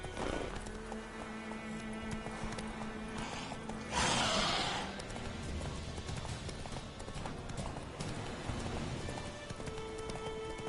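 Steady galloping hoofbeats from a horse in The Witcher 3 keep up a quick, even clip-clop, broken by a short whoosh of wind or breath, up close over a game soundscape.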